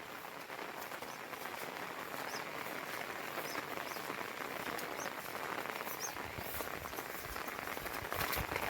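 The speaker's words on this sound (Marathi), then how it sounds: "पाऊस पण आता अचानक पडायला लागला जोरातच" Heavy rain pours steadily over a hillside in the Konkan region, a dense continuous hiss of drops on surfaces holding the same level from start to finish, with faint bird calls now and then and no talking.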